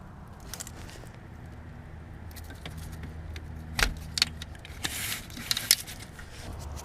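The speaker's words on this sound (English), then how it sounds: "I'm just using a 10mm ratchet and wrench to get it off." Metal clicks and clinks of a 10mm ratchet and wrench backing out a bolt in the engine bay of a 2000 Dodge Dakota 4.7, a few sharp taps and rattles over a steady low engine-bay hum.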